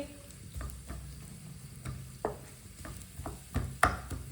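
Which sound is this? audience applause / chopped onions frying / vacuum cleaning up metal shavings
chopped onions frying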